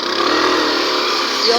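A Suzuki vehicle's engine runs while off-roading, a loud, steady broadband drone that holds for the whole stretch, with people talking over it.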